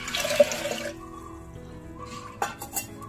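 Water splashes into a pot of soaked horse gram for cooking, a brief rushing pour at the start, then quiet followed by a couple of small clinks and splashes.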